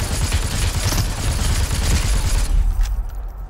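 Rapid bursts of gunfire from the Super People battle royale video game, loud and dense throughout, with sustained automatic fire and no talking.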